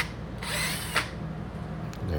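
Two-speed upholstery scrubbing machine with a microfiber pad whirring at close range, a steady motor drone with brief rises in pitch as the pad works across fabric.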